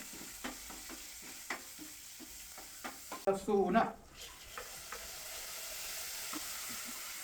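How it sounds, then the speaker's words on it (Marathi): Curry leaves and green chilies sauté in hot oil over a lowered gas flame: a quiet run of spoon taps against the pan, then a loud burst of sizzling that fades back to a soft, steady fry. "कढीपत्ता गेला की लगेच मिरची आणि गॅस हलकासा कमी करून घ्यायचा. पहिला परतून घ्यायचं नीट."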